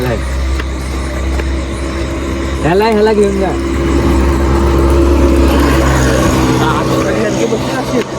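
An auto rickshaw engine idles with a steady low rumble beneath continuous, close conversation between several people.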